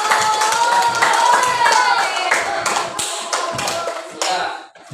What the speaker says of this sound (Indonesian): Tepuk tangan untuk teman semuanya